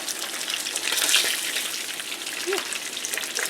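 Tilapia fish fries in a pan with a loud, dense, continuous sizzle and crackle that swells slightly midway and holds steady close up.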